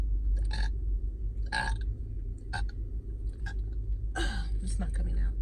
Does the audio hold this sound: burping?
yes